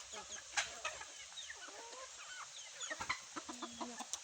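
Wild chicken (labuyo) clucking in short, repeated calls at close to mid range, with scattered rustling and other bird sounds in an outdoor yard.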